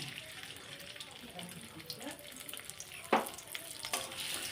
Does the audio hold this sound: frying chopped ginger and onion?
yes